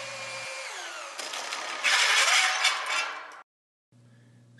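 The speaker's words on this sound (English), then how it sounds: "Install the wood screw." A HangerMate wood screw is driven into wood from the ground with a pole-mounted Lagmaster Plus tool, making a steady powered whirring and grinding for about three seconds before it cuts off abruptly, with no talk.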